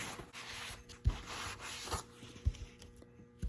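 Clear wax being rubbed off a coated piece by hand, a steady dry scuffing and rubbing texture with a few soft knocks, close and fairly quiet with no talking.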